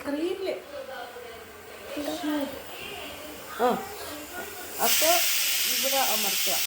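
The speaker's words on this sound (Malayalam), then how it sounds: "ഇവിടെ കുക്കറിൻ്റെ ശബ്ദം കൊണ്ട് എൻ്റെ ശബ്ദം കേൾക്കില്ലെന്ന് എനിക്കറിയാം" A kitchen pressure cooker lets out a loud, steady steam hiss that bursts in partway through and runs to the end, while someone talks over the kitchen sounds.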